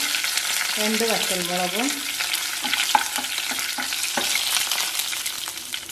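Mustard seeds, urad dal and curry leaves sizzle and crackle in hot coconut oil in a pan, a continuous close frying hiss with sharp pops, while a voice speaks briefly in the middle.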